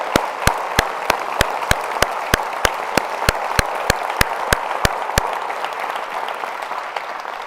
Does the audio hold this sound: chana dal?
no